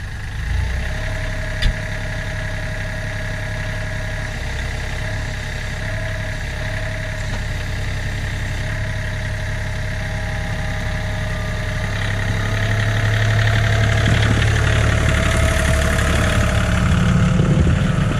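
A John Deere tractor engine idles steadily while warming up in winter, a continuous low rumble with a faint click early on, swelling slightly louder and rougher toward the end; no one speaks.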